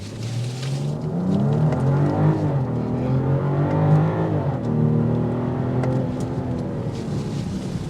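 A 2024 BMW X7 xDrive40 with 375 horsepower accelerates hard from a standstill toward 60 mph. Its engine note climbs and drops through several gear changes as a loud, continuous roar heard from inside the cabin.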